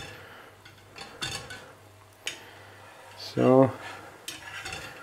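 Flatbread is turned in a pot heated by tea lights: scattered metallic clinks and scrapes of a utensil against the pot, one sharp clatter midway, with a voice speaking briefly.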